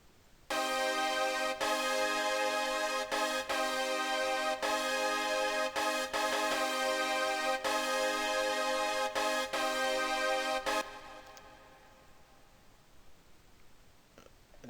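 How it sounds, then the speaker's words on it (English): Synthesized brass plays a simple chord pattern for a trap beat in FL Studio, loud stabbed chords in a rhythmic sequence for about ten seconds, then fading into quiet room noise. "start with some kind of brass, a simple pattern, played in chords"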